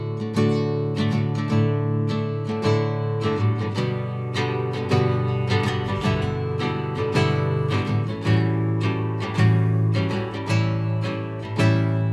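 A guitar strums a chord progression in a steady rhythmic pattern, each stroke sharp and clear, ringing on continuously and up close with no voices.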